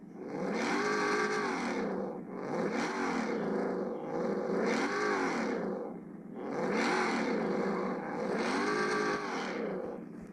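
A Ford Mustang engine in the racing video game Drive Zone revs hard in repeated loud bursts, each climbing and falling in pitch with a whining edge, close up and with no talking.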